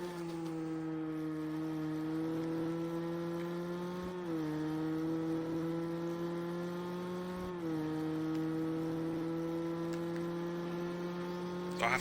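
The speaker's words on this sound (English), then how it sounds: "I have to be honest, I was just listening to the car then." Race car engine on an onboard lap at Silverstone, a steady loud drone with strong harmonic whine that drops briefly at two gear changes before pulling on, heard alone without talk.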